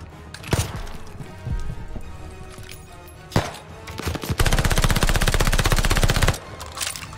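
Gunfire in Call of Duty: Vanguard during a Berlin campaign mission: isolated loud single shots, then a sustained two-second burst of rapid automatic fire, close and heavy, with no talking.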